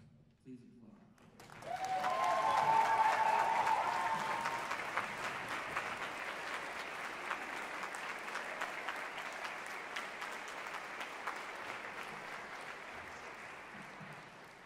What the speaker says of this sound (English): So would you please stand up and please applaud